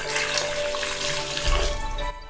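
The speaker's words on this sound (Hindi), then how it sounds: "उन्हें गर्म पानी से भरें।" Warm water pours from a tap onto yeast for pizza dough, a steady close splashing stream that deepens briefly as the container fills before cutting off abruptly, with no one speaking.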